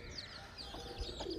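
Pigeons cooing softly at a low-flying pigeon tournament on rooftops in Maatli, interior Sindh, Pakistan, a few brief murmuring coos over steady outdoor background noise.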